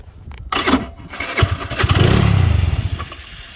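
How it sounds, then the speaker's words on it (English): A motorcycle fitted with a loud aftermarket exhaust cranks over and fires, catching into a rough, throaty rumble that pulses and then settles, close by and loud, with clicks and handling noises just before it starts. "I put the aftermarket exhaust on there. Yeah, she got a big old hole. She loud too. Shit, I'll do a crank up for you."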